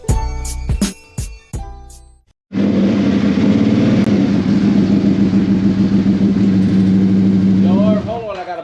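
Motorcycle engine starting up and idling inside a shop, a loud close rumbling run that holds steady for several seconds and then fades, after sharp clanks and a brief quiet, with a voice speaking near the end.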